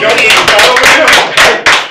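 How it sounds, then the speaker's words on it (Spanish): Loud, close audience applause at a municipal public works interview, dense clapping with bright sharp hits filling the short stretch and a few louder surges. "un aplauso"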